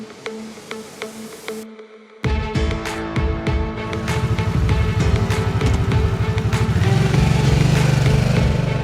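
A 2021 Harley-Davidson Sportster S cruiser motorcycle engine starts with a sudden burst, then rumbles and revs louder as it rides off, steady and close.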